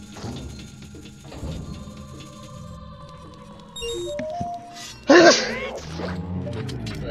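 A single sharp human sneeze bursts out loudly near the end, cutting through steady background game music and effects during a Zelda Ocarina of Time randomizer race.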